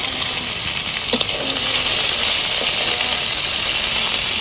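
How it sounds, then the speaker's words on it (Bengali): Onion tossed into hot oil with garlic sizzles loudly and close up, a steady hissing fry that continues throughout with no talking. "রসুনটা একটু ভেজে নিলাম, এখানে দিয়ে দেবো পেঁয়াজ।"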